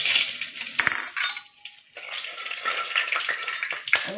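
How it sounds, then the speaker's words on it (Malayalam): Chillies and mustard seeds frying in hot oil for rasam, a steady loud sizzle with brief clinks of a utensil against the pan, dipping quieter for a moment before the crackle returns. "നമ്മളിതിലേക്ക് ഇനി അതിലേക്ക് മുളക് ഇടുകയാണ്"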